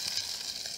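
Hot oil tempering with mustard seeds and curry leaves sizzles as it is poured into beetroot kichadi, a brief bright hiss heard alone and fairly faint.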